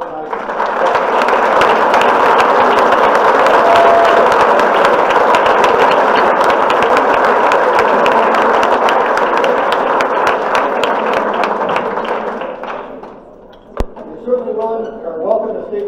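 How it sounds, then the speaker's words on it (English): An audience at the Lake Central school board meeting gives a long, steady round of applause that rolls on for about twelve seconds before tapering off, followed by a few scattered claps and quiet room noise. "I'd like to have one final round of applause for all of tonight's"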